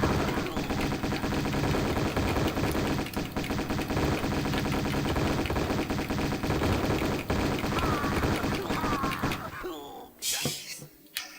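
Uzi fire in Tomb Raider II, in the Tibetan Foothills, as a long loud unbroken stream of rapid automatic shots that stops abruptly near the end and gives way to a few scattered clanks.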